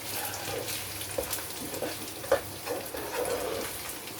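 Garlic cooking in a pan for a spaghetti bolognese, a steady, fairly quiet broadband sizzle with a few soft clicks and stirring bumps, no talking over it.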